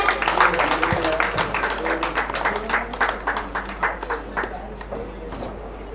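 Applause from an audience at a human rights organisation's award ceremony, a dense, steady clatter of many hands clapping for several seconds, fairly close and loud, slowly thinning toward the end.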